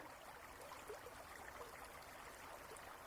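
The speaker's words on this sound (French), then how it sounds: "au loin, vous entendez le son d'une cascade" A distant waterfall produces a soft, steady rush of flowing water, faint and unbroken, with no other sounds over it.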